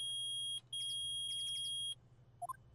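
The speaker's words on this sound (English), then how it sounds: "It's beeping! The metal detector's found something!" Electronic metal-detector beep from the Phoenix Wright Ace Attorney video game: a loud, steady high-pitched tone that runs for nearly two seconds and carries a fast warbling pulse, then cuts off before a couple of short blips.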